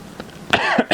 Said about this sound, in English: This cough, number one, is a problem.